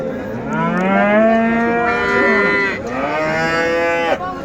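Cows with calves low continuously at a busy livestock market. The long, loud moos overlap and come from close by.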